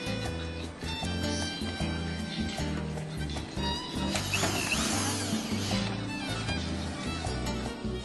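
Screws being driven back into metal roof ridge capping on a warehouse, a power tool buzzing in repeated bursts with clicking, ratcheting texture, fairly close and steady throughout.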